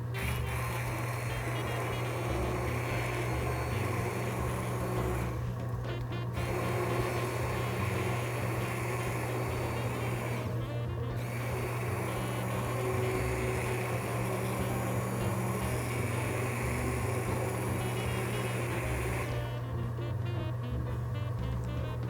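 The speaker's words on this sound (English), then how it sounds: "just take a regular hand wand or immersion blender" An immersion blender purees onion and lingonberry sauce in a kitchen, a steady motor whir with a strong low hum running throughout, briefly dipping and changing tone a few times as the blade shifts.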